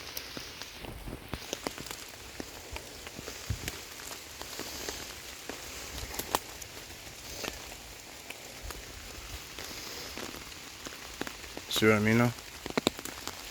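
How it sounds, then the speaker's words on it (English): Heavy rain pours onto a forest trail in a constant, dense patter with scattered louder drips, while someone speaks briefly over it. "if it wasn't pouring rain,"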